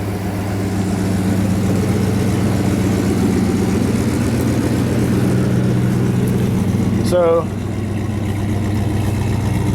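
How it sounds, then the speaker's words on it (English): An old car engine with 244,000 miles runs smoothly at idle, a steady low rumble close by that stays even throughout, with a brief voice cutting in near the end. "But as you can hear, it's a good running engine."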